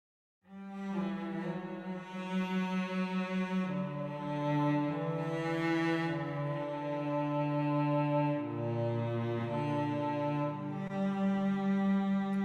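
A cello plays a smooth legato melody of long, sustained bowed notes that glide from pitch to pitch, heard alone at a moderate level.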